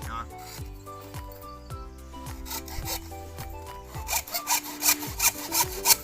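A hand saw rasps through wood in steady back-and-forth strokes, cutting a notch for a homemade rat trap, growing faster and harsher toward the end, with a humming tonal background throughout.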